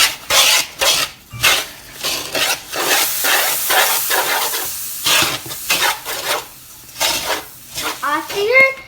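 A Sri Lankan laddu mixture is stirred in a pan, close up, with repeated rasping scrapes of a spoon against the pan in quick uneven strokes and brief pauses between them.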